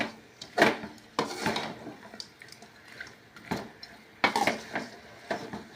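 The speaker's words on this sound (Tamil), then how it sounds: "கறி வந்து நல்லா அடியில் இருக்கிறது மேலே வர மாதிரி, மேலே இருக்கிறது அடியில் வர மாதிரி நல்லா கிளறிக்கலாம்" Chicken pallipalayam curry being stirred in a pan, with intermittent scraping and clinking of a spoon against metal in several distinct bursts, fairly close and quiet, with soft sizzling between strokes.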